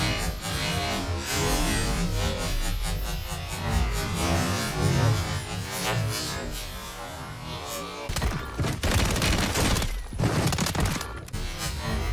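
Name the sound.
gunfire in the video game Warzone 3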